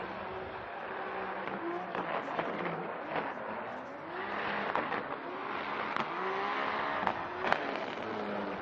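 A drift car engine revs repeatedly at a Formula Drift event in Irwindale, with sharp crackling exhaust pops and bangs scattered throughout, heard from a moderate distance.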